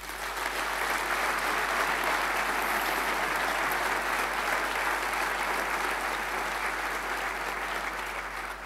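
Sustained applause from an audience at a municipal inauguration ceremony, an even, continuous roar of clapping throughout, moderately distant, with a low steady hum beneath it.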